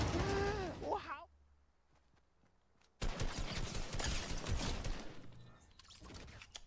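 Sniper fire and other gunfire in a battle royale video game with a zipline, dense bursts of shots crackling under loud excited voices, a quieter gap in the middle before the noisy firefight resumes.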